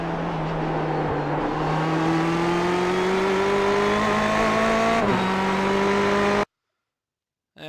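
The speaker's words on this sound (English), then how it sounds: "we brake just after the 100 board and go down from fourth gear to second gear for the final turn" A Ferrari 488 GTE race car in iRacing at Bathurst roars close up with a rising engine note, drops pitch sharply as it brakes and downshifts, then cuts to silence.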